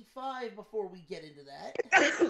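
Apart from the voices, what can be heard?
sneeze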